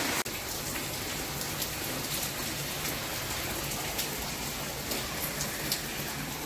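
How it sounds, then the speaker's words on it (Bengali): Steady rain falls in Al Ain, UAE, a dense even hiss of drops on surfaces that fills the whole stretch without pause, close and continuous, with no voices. "আজ অনেক ঠান্ডা হবে কারণ বৃষ্টি পড়ছে"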